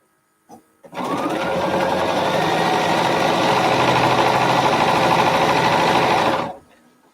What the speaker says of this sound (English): I'm going to sew this to this and this to this